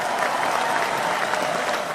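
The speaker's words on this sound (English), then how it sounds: "A huge round of applause for Grant Fuhr joining the Sports Circus today." A studio audience breaks into steady, loud applause as a hockey goalie guest is welcomed onto a sports talk show, continuous clapping filling the whole stretch without pauses.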